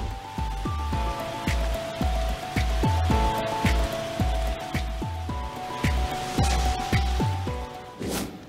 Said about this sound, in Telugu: అల్లూరు జిల్లా చింతూరు ఏజెన్సీలో భారీ వర్షం కురుస్తోంది